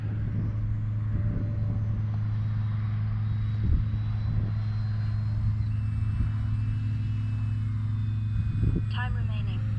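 A Hobbyzone Carbon Cub S2 RC tail-dragger airplane takes off from a grass field. Its electric motor gives a steady drone and hum under someone talking, with a few thumps and rustles nearby.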